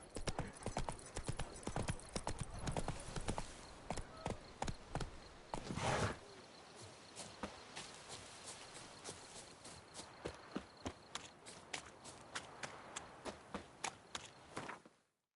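Roach, a horse in The Witcher 3, moves at a gallop with quick rhythmic hoofbeats, loud at first, then a whoosh and a run of lighter, evenly spaced clip-clops before the sound cuts off.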